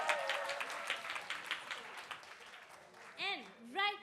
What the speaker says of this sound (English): So, round of applause for TIU!